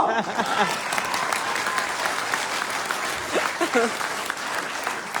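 An audience claps in a sustained round of applause, with a voice speaking over it.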